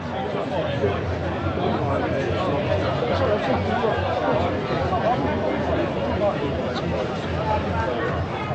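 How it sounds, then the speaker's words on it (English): Dense crowd chatter fills an outdoor town marketplace in Ashbourne before the Royal Shrovetide Football match, a steady, continuous babble of many voices at close to medium distance with no pauses. "Quite a crowd gathering here"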